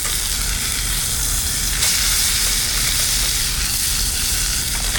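Thin steak frying in a pan on a trucker's cooking setup, a steady close sizzle and crackle of fat that holds evenly loud throughout with no talking.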